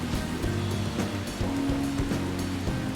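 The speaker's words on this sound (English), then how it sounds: "The rain is very loud, by the way." Steady, heavy rain falls in Persona 5 Royal, a dense continuous hiss that stays loud and even throughout, with faint tonal background sounds underneath.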